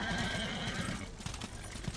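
Horse neighing and galloping hooves in the video game Darksiders, a whinny over steady clip-clop that carries through the whole two seconds, loud and close, with game ambience behind.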